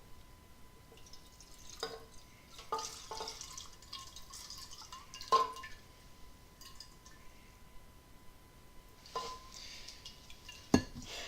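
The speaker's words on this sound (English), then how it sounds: "And now we'll drain this acetone out of the tank." Acetone drains out of a motorcycle fuel tank during tank sealing, giving sparse drips and small splashes with a few light metallic clicks over a quiet background and no speech.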